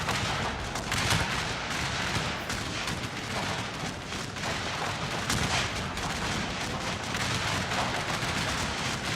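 Cannons firing canister shot in a Civil War battle video game set at Ball's Bluff produce a continuous, loud roar of booming volleys and crackling gunfire with no pauses, and no speech is heard.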